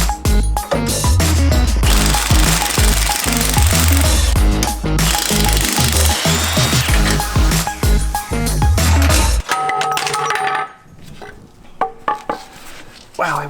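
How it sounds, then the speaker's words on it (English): An 18mm wrench and socket work loose a rear sway bar bolt on a Jeep JL Wrangler, a loud, rapid run of metallic clicking for about nine seconds before it drops to quieter, scattered knocks. "So 18mm wrench and socket,"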